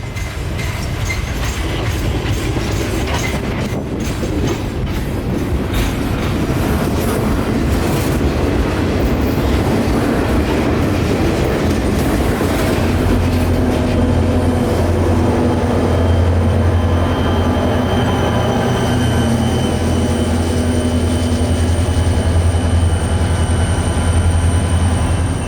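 CSX local freight 0711, a string of mostly boxcars, rolls steadily through downtown Lakeland with continuous loud rumbling, wheel clatter and rail squeal close by, unbroken for the whole stretch.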